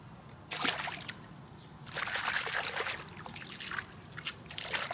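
A carp released back into the water from a reed-lined fishing spot, two splashy sloshes and trickling water, close and fairly loud, with no talk.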